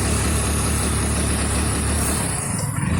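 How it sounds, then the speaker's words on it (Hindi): A Hero Splendor BS6 motorcycle engine with a misfire runs close and loud, a dense continuous mechanical clatter with uneven low thuds, briefly dipping near the end, no talk. "जैसा हम स्टार्ट करते हैं तो ये बाइक मिसिंग मारती है"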